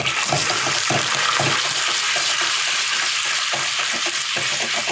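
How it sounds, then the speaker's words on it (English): Browned butter sizzling hard in a pan right after water is poured in, a loud, steady frying hiss that fills the whole clip with crackling pops throughout. "add the water and swish"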